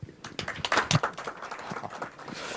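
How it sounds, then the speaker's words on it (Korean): Applause from an audience at an education forum debate, a scatter of claps at moderate distance, fairly sparse and fading toward the end. "이 박수가 안 나올 수가 없겠습니다"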